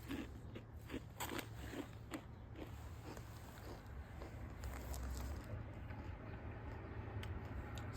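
Close, crisp crunching bites of a salty snack repeat in an uneven rhythm, a dry crackly chewing sound against a steady low background hum.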